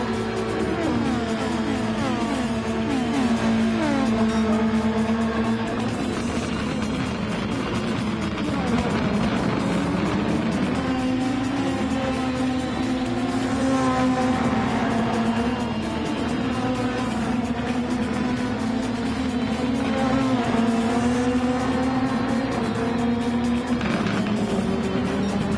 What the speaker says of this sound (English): Hard to believe that these are all, what, 2-litre engines?